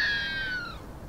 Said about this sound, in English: These calls are the screams you may hear during the course of the night.